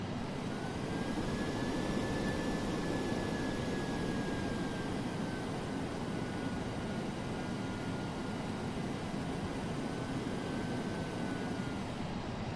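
Continuous jet engine roar from a DC-8-73F airliner in a flight simulator game, a steady dense rumble with a faint high whine drifting in pitch, loud and unbroken throughout.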